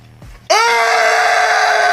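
After a brief quiet moment, a man lets out a sudden, loud, sustained scream that becomes a steady wail, set off by a Superman logo.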